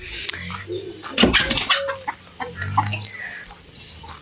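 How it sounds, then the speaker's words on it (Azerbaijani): Chickens freed from a village coop cluck close by, with a brief flurry of flapping wings and scattered calls over a quiet yard. "Toyuqları açdım."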